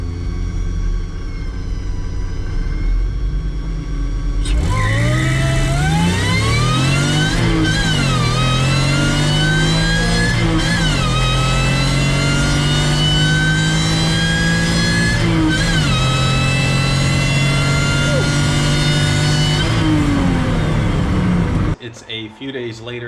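A supercharged Toyota MR2 with a swapped Honda J32A2 V6 launches down a drag strip, its engine revving hard through repeated rising pulls and gear shifts, loud and close, quieter idle before the launch and a brief drop at the end.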